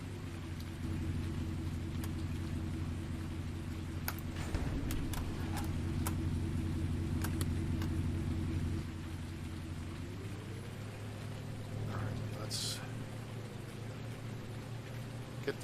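A truck engine idles in Farming Simulator 19 with a steady low rumble, holding even throughout and shifting slightly in pitch partway through, with a few brief clicks and knocks over it.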